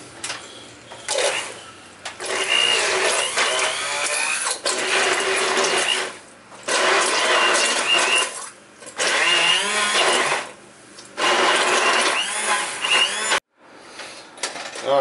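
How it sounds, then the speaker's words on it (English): A blender purees venison barbecue sauce made with ketchup, vinegar, Worcestershire sauce, veggies and apples. It runs in five or six loud whirring bursts separated by short pauses, close up, with no talking. "so I blended it up"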